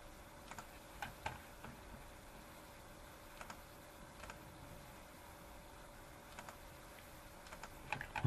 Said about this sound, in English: Just left clicking the whole time.